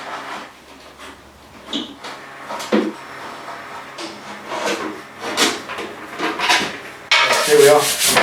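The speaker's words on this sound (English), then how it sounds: "sand it all over and see if I can get it ready for paint today" Hand sanding of Dolphin glaze filler on a car undertray panel in a home garage, with repeated rasping strokes of varying length, fairly close, and a louder burst of rubbing near the end.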